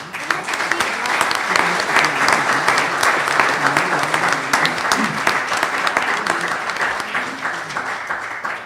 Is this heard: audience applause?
yes